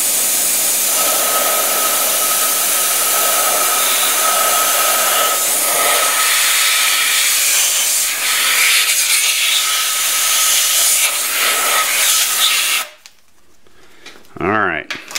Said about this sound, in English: take a little air, real gentle like